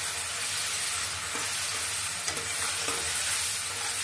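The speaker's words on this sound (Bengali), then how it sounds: "চিংড়ি মাছটাকে একটু ভেজে নিব।" Prawns coated in turmeric and salt fry in hot oil in a pan, giving a steady, close broadband sizzle with no talking.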